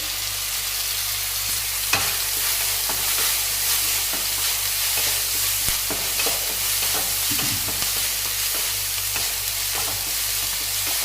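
Onions fry in a pan for a Kerala-style mackerel dish, a steady loud sizzle with scattered scraping clicks of stirring throughout, close up and with no talking over it.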